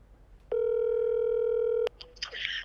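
A single long, steady telephone tone sounds close and clear for over a second as a call is placed, then cuts off into faint background noise and rustling.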